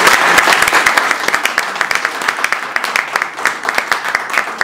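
Audience applause at a press conference in Paris announcing a concert, dense sustained clapping filling the room with some crowd noise, loud and steady throughout.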